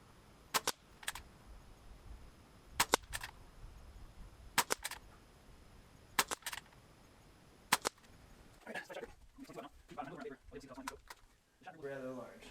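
Benjamin Marauder air rifle fired at targets: five sharp, near, doubled snapping reports spaced about two seconds apart, followed by someone talking over faint background noise.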